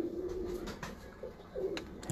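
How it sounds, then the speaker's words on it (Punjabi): Close, quiet coos from a Lal Pari pigeon pair come in several short pulsing phrases, separated by brief pauses in a calm setting. "ਇਹ ਨਾਲ ਲਾਲ ਪਰੀ ਕਬੂਤਰੀ ਲੱਗੀ ਅਸਲ ਲਾਲ ਪਰੀ ਕਮੱਕਰ ਕਬੂਤਰੀ"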